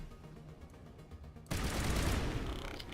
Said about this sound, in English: I put high explosive rounds on my assault rifle